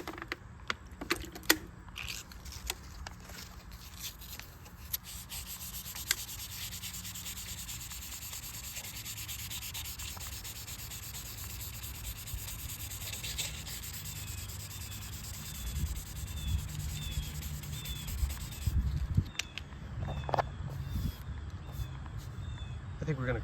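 A light scratch on a car's paint is rubbed out by hand, a soft, continuous scrubbing friction with faint squeaks and small taps, fairly quiet and steady over the whole stretch.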